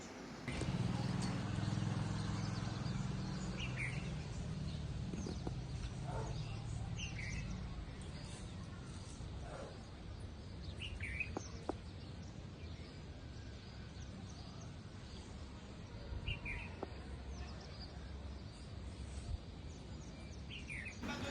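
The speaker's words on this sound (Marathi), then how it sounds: "तुम्ही पक्ष्यांचा आवाज ऐका आधी. खूप सुंदर असा येत आहे." Scattered bird chirps and short calls over a steady outdoor background hum, faint and intermittent, with no one speaking.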